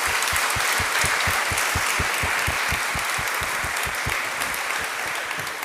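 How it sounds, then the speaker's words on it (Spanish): Steady audience applause fills the room after an evening lecture, dense continuous clapping at an even level throughout with no voices over it. "Sí, pues le damos un aplauso al maestro."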